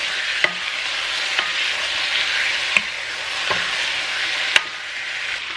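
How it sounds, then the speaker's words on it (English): Heaping tablespoon of minced garlic sizzling steadily in a hot pan, a broad bright hiss with a few sharp utensil taps as it is stirred, close and alone. "Next, I'm gonna add in my minced garlic."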